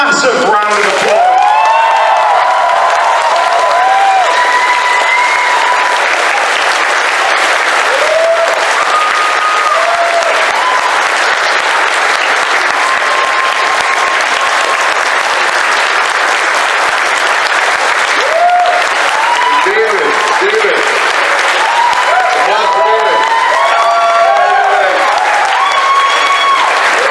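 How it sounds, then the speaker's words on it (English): A live audience gives a panel on finding your voice a long, loud round of applause, dense continuous clapping mixed with scattered cheers and whoops that holds steady for nearly half a minute. "Give all of them a massive round of applause."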